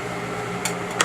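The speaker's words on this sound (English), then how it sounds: "in our stand mixer, we are going to cream our butter" A stand mixer creams butter and sugar with a steady, low motor hum and two brief clicks near the end of the short burst.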